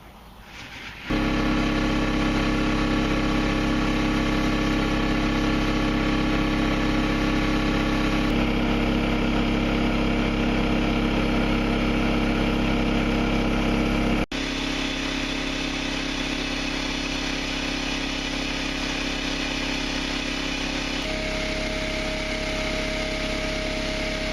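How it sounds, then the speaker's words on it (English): Ceramic piece being bead blasted with a very light, fine blasting medium inside a cabinet: a steady, loud, continuous hiss and motor roar runs unbroken for the whole stretch, shifting tone slightly partway through. "We're going to put it in a bead blaster."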